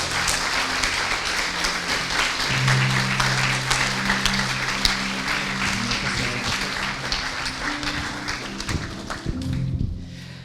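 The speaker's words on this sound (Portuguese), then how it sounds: "Você pode aplaudir o Senhor em nome de Jesus." Church congregation applauding during a Sunday worship service, a steady dense wash of clapping over about ten seconds with low sustained tones beneath, tapering slightly near the end.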